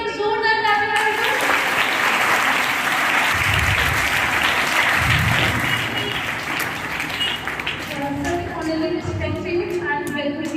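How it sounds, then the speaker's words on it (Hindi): Children applaud loudly at a Veer Bal Divas program at Guru Nanak School in Gonda, dense sustained clapping filling most of ten seconds, with voices talking over it at the start and end. "बच्चों प्लीज एक बार जोरदार ताली बजाएं"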